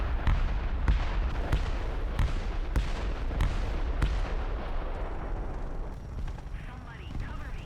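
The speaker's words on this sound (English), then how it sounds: "Oh, I'm being bombed." Bombs exploding in the War Thunder video game, a steady barrage of loud booming blasts repeating roughly every half second over a rumbling background, close and heavy, fading slightly near the end.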